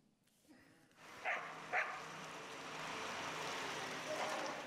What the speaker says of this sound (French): Un chien de ferme